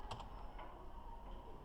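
Computer keyboard keys, Shift plus a letter, pressed while typing in Microsoft Word, a couple of crisp close clicks near the start and a few fainter taps over low room noise.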